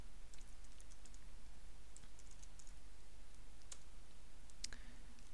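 Light keystrokes on a computer keyboard as a terminal command is entered, soft irregular clicks spread across a steady quiet background hiss.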